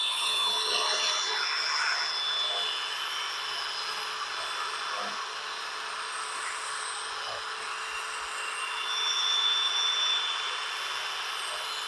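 A small air blower used while cutting Kaizen foam for a Milwaukee Packout: a steady, hissing whoosh of air with a high whine, continuous and close for the whole stretch, rising slightly in intensity near the end.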